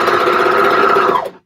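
An overlocker sewing machine runs in one steady, fast whirring burst up close, then stops abruptly after about a second.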